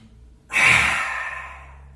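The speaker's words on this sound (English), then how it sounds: "we're going to finish it with some energizing lion's breath" A single forceful exhale through an open mouth with the tongue out, lion's breath in a yoga session, rushing up abruptly after a quiet moment and slowly trailing off, close and breathy with no talking.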